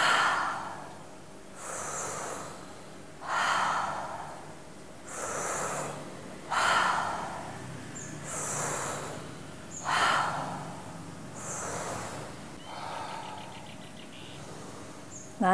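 Deep forceful Tummo breathwork breathing, a steady cycle of strong nasal inhales and long hissing exhales repeating about every second and a half, close and alone without talk.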